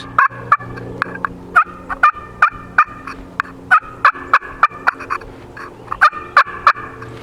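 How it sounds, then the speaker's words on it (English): Rapid series of sharp, high turkey yelps and clucks from a wooden striker dragged across a slate call, repeated in quick uneven bursts, close and fairly loud. "dragging the wood across the slate is what makes the friction, which makes our sound"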